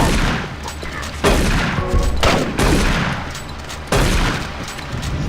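Repeated bursts of gunfire from the DOOM 3 video game, loud volleys cutting in roughly every one to one and a half seconds over a dense, rumbling backdrop of in-game noise.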